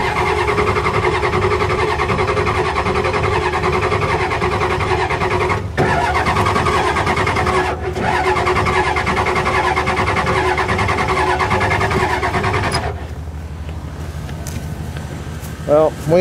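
A Ford diesel engine starts cold and settles into a loud, steady, rough idle that runs for about thirteen seconds, then drops to a quieter, lower hum near the end.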